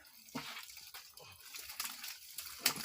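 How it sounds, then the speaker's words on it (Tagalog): Water poured into a bucket in an outdoor riverside setting, arriving as a few broad splashing surges spread over a few seconds, fairly near and moderately loud, with no talk over it. "bubuhos na po sa balde"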